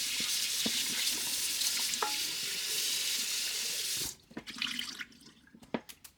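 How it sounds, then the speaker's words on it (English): Cold tap water runs into a kitchen sink over raw chicken, a steady hissing stream for about four seconds before it stops. Splashes, drips and light handling knocks follow. "I'm going to rinse them off with cold water."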